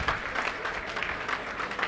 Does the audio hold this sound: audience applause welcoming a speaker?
yes